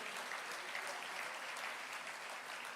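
A church congregation applauds together in a steady, even wash of clapping that holds for a few seconds, moderately distant and without any voice on top.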